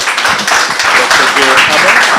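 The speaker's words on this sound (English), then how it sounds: "Please, a round of applause for Dr." Audience applause at a public talk on public service reform, dense steady clapping throughout with voices mixed underneath.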